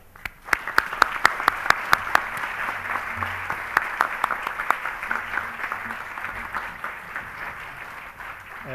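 Audience applause welcoming Dr. Sadiq Jalal Al-Azm at an alumni authors literary festival at AUB, sustained clapping from a crowd with a few loud near claps at the start, continuing steadily throughout.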